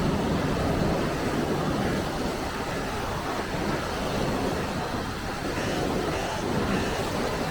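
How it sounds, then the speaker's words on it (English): Treated sewage effluent pumped into the River Thames at Barking Creek: a steady, loud rushing of churning water, broadband and continuous like surf, with no talk over it. "That is treated sewage water being pumped into the River Thames at Barking Creek."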